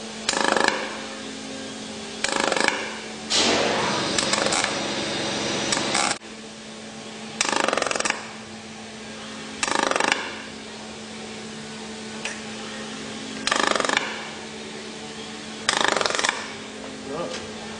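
A Telwin MIG welder lays a clean, pulsed weld in repeated bursts of hissing, buzzing arc sound, each lasting a second or two, separated by quieter gaps with a steady background hum.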